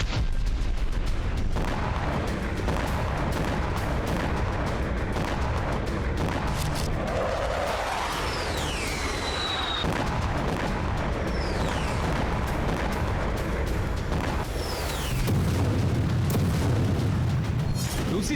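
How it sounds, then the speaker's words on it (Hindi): Deep booming blasts from Russian missile, rocket and drone strikes on Ukrainian cities rumble heavily and continuously, with rising whistles overhead and a fresh low roar of explosion near the end. "रूसी सेना ने बैलिस्टिक मिसाइलों, रॉकेट और ड्रोन से यूक्रेन के 6 शहरों में विस्फोट किया।"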